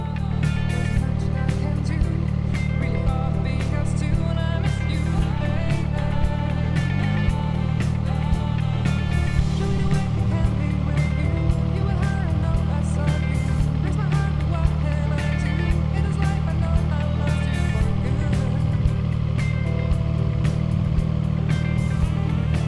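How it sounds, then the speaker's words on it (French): A 2025 CF Moto 675 SR-R motorcycle being ridden, its engine droning steadily and continuously, close and fairly loud throughout with no break. "de retour après une belle petite balade avec cette CF Moto 675 SR R pour être précis"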